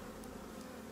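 Honeybees in a crowded hive colony make a dense, steady buzzing drone, close and continuous throughout the brief moment, with no other sounds standing out.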